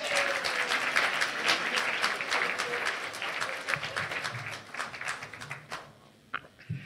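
Audience applause for a singer at the 2017 "Saviours of Childhood" event: a crowd of many hands clapping steadily, thinning out toward the end into a few scattered claps.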